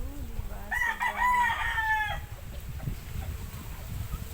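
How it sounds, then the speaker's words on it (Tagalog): A rooster crows once nearby, a loud drawn-out call rising over clucking chickens, followed by low rustling background noise. "May mga chicken."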